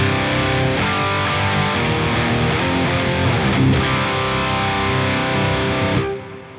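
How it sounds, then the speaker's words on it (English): A loud, dense wall of distorted electric guitar through a high-gain amp in Archetype: Rabea X, chugging and ringing out continuously, then cutting off abruptly near the end. "this is how the high gain amp sounds now"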